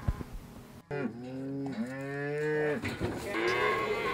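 A cow in a Texas pasture that holds around 100 head of cattle gives a long, loud, close moo that rises and falls over a few seconds, with a quieter second call at the end.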